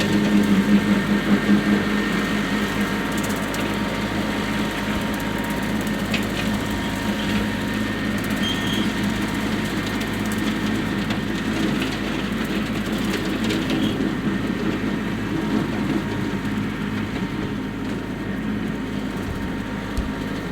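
A TYM farm tractor runs steadily while pulling a bush hog mower, with a constant low engine drone and mechanical rattle that holds at an even, loud level throughout, without noticeable pauses or changes in pace.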